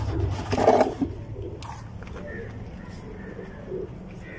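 Domestic pigeons cooing at a pigeon-keeping loft, a few soft low coos rising early and then trailing off amid faint background noise, no talk.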